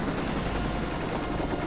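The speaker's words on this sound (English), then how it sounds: "Believe it or not, there is a helicopter here." Helicopter in the video game FUEL, a steady broadband rotor and engine drone holding constant throughout, loud and unbroken with no talk over it.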